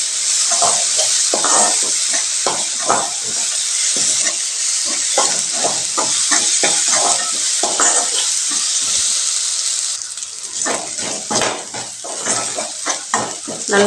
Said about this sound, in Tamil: இஞ்சி பூண்டு பேஸ்ட் நல்லா பச்சை வாசனை போகிற வரைக்கும் வதக்கி விட்டுக்கலாம்.